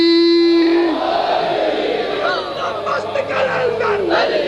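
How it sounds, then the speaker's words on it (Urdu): A large crowd at a religious gathering shouts the Shia slogan Haidari in loud unison, a dense, sustained roar of many voices following a single voice that leads the call. "ایسا نعرہ لگاؤ یہ سوئے ہوئے جاگ جائے"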